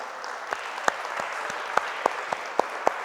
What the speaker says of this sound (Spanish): Grande el aplauso es para Dios. Aplauda su palabra porque es buena.